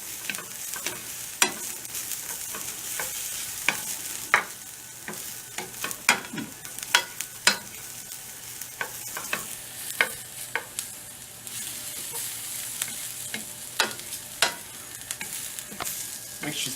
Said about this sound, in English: We must let that sit for 30 seconds, stirring constantly.